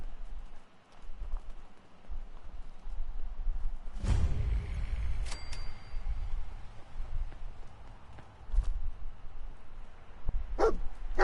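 Dogmeat the dog in Fallout 4 gives a few scattered short barks among footsteps and game ambience, moderately close, with quiet stretches in between.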